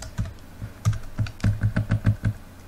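Keys clatter on a computer keyboard while code is typed in a Mono and Visual Studio Online editor on Linux, a quick irregular run of close, crisp clicks with short pauses between bursts.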